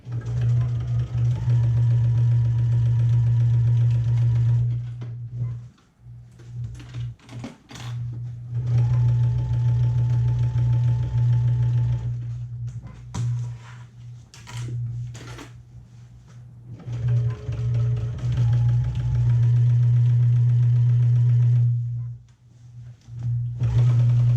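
A sewing machine stitches seams in steady loud runs of buzzing motor hum, stopping briefly a few times between bursts before running on again.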